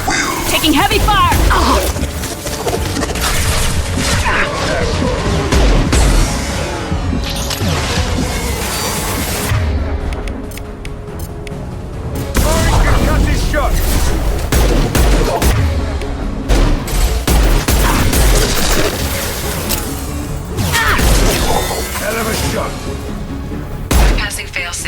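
Heavy gunfire rages in a Mass Effect 2 battle: dense volleys of shots, crashes and booms in loud bursts, with voices calling out over the combat.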